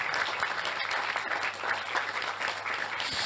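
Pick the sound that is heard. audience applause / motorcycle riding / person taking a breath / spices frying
audience applause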